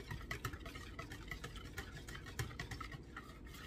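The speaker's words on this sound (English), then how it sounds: "And give it a good whisk." Crepe batter whisked by hand in a bowl, a quiet, steady run of quick scratchy strokes with no talking.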